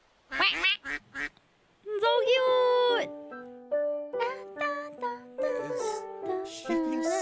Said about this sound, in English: the quacking is a little bit loud, so I'm just gonna get the sound down a little